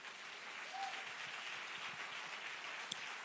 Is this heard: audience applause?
yes